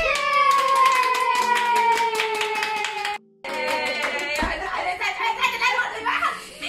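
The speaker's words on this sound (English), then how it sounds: "If you're happy and you know it, clap your hands" Hands clapping along to a children's sing-along song, a run of quick, rhythmic claps mixed in with singing and a voice, followed by a brief silence and then looser clapping and chatter.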